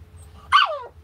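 A single sharp, fairly loud bark from a nearby dog, one short burst in an otherwise quiet room.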